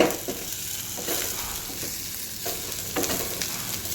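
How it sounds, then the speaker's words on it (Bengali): Onion, ginger and garlic paste frying in a pan for chicken tikka masala, a continuous close sizzle with a few stirring scrapes, no voices. "এটা ভালো করে ফ্রাই হোক"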